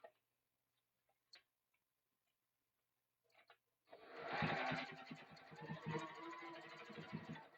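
A sewing machine starts up after a few quiet clicks and stitches steadily at close range at 2.5 stitch length, with a fast rhythmic mechanical chatter.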